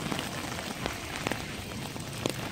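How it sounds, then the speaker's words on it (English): Rain falls steadily on pervious concrete pavement at El Camino Park in Palo Alto, California, making a continuous dense hiss with scattered sharper drip taps, close and even throughout, with no voices. "it really doesn't even look like it's raining. It even sounds different."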